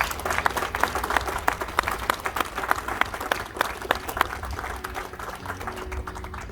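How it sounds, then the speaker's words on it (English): A crowd applauds soldiers on a parade field at a military change of command ceremony, many hands clapping in a continuous dense patter that holds throughout at moderate loudness. "let's give our soldiers out in the parade field a big round of applause"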